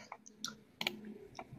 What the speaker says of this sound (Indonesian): Ini mouse-nya bermasalah, sorry.